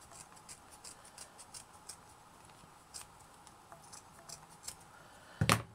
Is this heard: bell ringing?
no